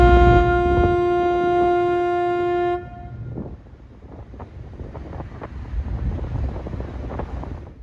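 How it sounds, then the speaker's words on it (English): Ferry in Virginia sounding a long, loud horn blast that stops abruptly, followed by wind buffeting and low rumble as the boats pull out of the slip. "So both ferries are pulling out of the slip at the exact same time."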